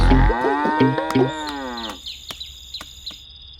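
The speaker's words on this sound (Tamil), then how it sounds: "மாட்டு எடுத்து உள்ள கட்டுறா" A cow on a farm gives one loud, long, close moo that rises and then falls. A few faint clicks and taps follow in the quiet afterward.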